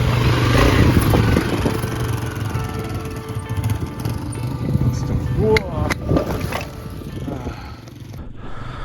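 Vintage motorcycle bouncing over a rough Black Hills trail, its engine a steady rumbling drone with clattering and knocks from the rough ground throughout, recorded close.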